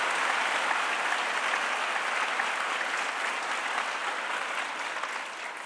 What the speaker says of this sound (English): A big round of applause for all of them and our collective gratitude to all these brothers and sisters.